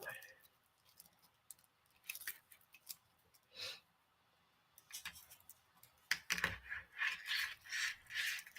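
Scissors snip the wire stem of a French beaded dandelion with quick, close, faint clicks and cuts, then a louder rustling burst of handling near the end.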